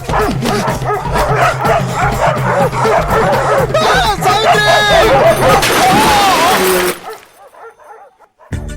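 Several dogs bark, yelp and whimper loudly and close together in a chaotic burst, with crashing noises and voices mixed in, before the racket cuts off abruptly near the end.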